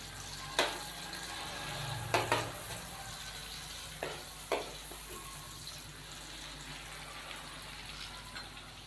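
Two medium onions, finely chopped, fry in oil with cumin and red chilli, making a faint, steady sizzle broken by a few sharp stirring knocks early on.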